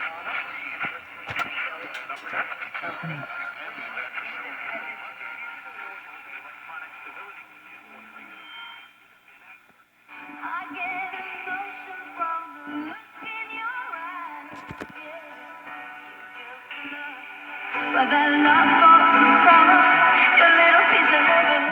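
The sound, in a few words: vintage radio playing broadcast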